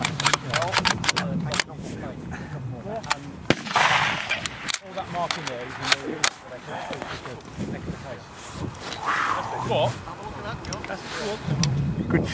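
Sharp, loud cracks of a .308 rifle fitted with a new muzzle brake ring out several times at an outdoor range, each report with a blast that fades quickly, amid wind noise and people talking between shots.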